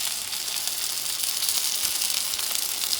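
Oil sizzles in a cast iron pan with a steady, close, even hiss and crackle that holds for the whole stretch with no voices.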